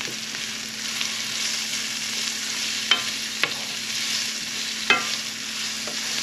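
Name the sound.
onions frying and caramelizing in a pan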